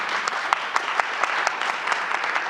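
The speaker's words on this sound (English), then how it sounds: "Give them all a round of applause" Audience applause during a fireside chat event at a university, steady dense clapping with a few sharper claps standing out, moderately loud and continuous with no talk.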